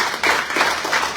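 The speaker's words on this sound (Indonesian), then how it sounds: "Berikan tepuk tangan untuk Tuhan." Church congregation applauding during a sermon, a steady wash of many hands clapping with slight rhythmic swells, fairly close and continuous for the whole moment.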